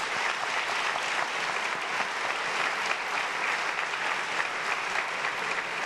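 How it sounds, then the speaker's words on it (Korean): Dense, steady applause fills a seminary hall as a congregation welcomes visiting guests, including a professor and a pastor, sustained and even throughout with no pauses. "우리 노스콧 교수님 또 박준수 목사님 한번 박수로 환영하겠습니다"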